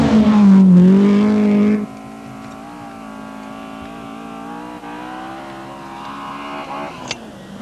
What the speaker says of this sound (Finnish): Andervangi ottaa tosi pitkän sladdin, mutta sitten jarruttaa viime hetkellä.